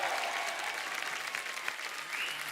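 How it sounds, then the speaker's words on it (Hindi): Dense, continuous applause from a sizable TV studio audience on The Kapil Sharma Show, welcoming Nora Fatehi, even and loud throughout, with faint crowd murmur beneath. "जोरदार तालियां नोरा के लिए।"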